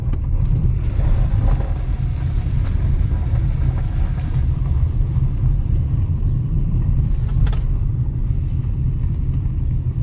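A Kia Sorento with sagging rear suspension rolling along a gravel back alley, heard from inside as a loud, constant low rumble of tires and road noise with no voices.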